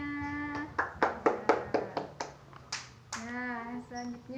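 A short burst of clapping from a small group, several quick claps in a row, with children's voices chanting around it.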